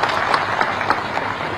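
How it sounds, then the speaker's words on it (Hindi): Audience clapping at a university seminar and dialogue event in Pantnagar, a brief, steady patter of many hands at moderate distance with no voices. "इनके लिए ताली बजा दीजिए।"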